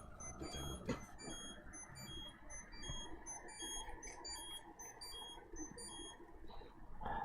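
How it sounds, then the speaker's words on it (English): A Tamagotchi virtual pet beeps for bedtime, sounding as a string of short, high, evenly spaced electronic chirps that repeat steadily over a murky low background. "That is the beeping of my Tamagotchi wanting to go to sleep."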